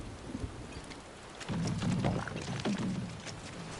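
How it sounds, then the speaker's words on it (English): Steady rain in Final Fantasy 7 Rebirth patters with a low rumble beneath, like distant thunder, fairly faint and continuous with no talking. "And also, it's just a little rain."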